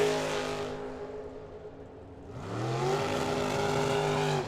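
A red and black Camaro launches down a drag strip, engine note swelling from distant quiet into a loud rising roar with climbing gear sweeps, heard alone without talk.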